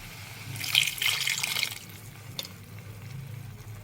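Water poured into a pressure cooker of chicken dum biryani, a short splashing pour that peaks early and then fades into quiet trickles, with one brief clink.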